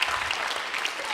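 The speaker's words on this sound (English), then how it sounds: "That's worth a clap." A church audience claps briefly, a short and fairly loud burst of applause that is close and steady for about a second.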